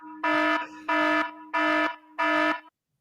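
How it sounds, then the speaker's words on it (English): An alarm klaxon played over radio blares in four loud, evenly spaced buzzing blasts, each about a third of a second long, with short gaps between and silence after the last. "I'm about to play something quite loud. It's an alarm klaxon."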